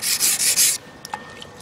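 A double-edged kitchen knife rasps in several quick, loud strokes across a coarse whetstone, then stops, leaving a few faint ticks in quiet.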